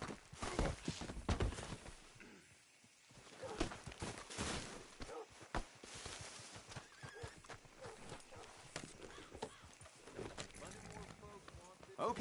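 Horse hooves clip-clopping at a quick riding pace in Red Dead Redemption II, close and steady, with a neigh and voices mixed in.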